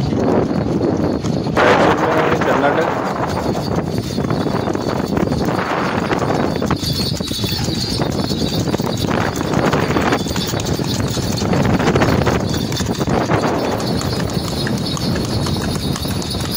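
Steady clip-clop of a four-year-old Sindhi stallion's hooves walking at a brisk, even rewal gait, with faint wind and outdoor ambience throughout.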